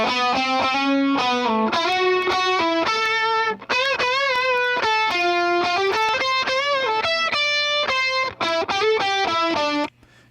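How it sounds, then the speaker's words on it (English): A loud distorted electric guitar solo with a thick doubled tone plays bending, sustained melodic lines, with no voices. "that's a doubled guitar solo"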